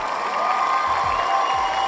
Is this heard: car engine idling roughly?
no